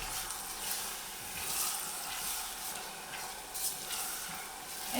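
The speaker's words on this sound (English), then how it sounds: "we are going to cook the onions until it becomes translucent" Chopped onions frying in half a cup of hot vegetable oil for Armenian vegetarian dolma, a soft continuous sizzle and hiss with gentle swells as the pan is stirred, steady and close throughout.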